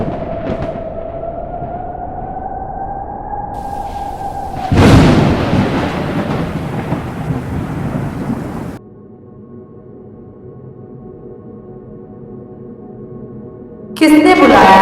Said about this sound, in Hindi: तेज बिजली कड़कने लगी